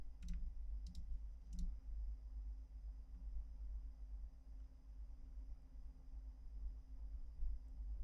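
Computer mouse clicks: three quick, faint clicks near the start, set over a low steady background hum, then nothing but the hum.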